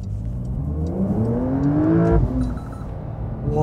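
A Porsche 911 accelerates hard on a Singapore road, its engine note climbing in pitch, briefly dropping at a gear change, then rising again, loud and close from inside the car.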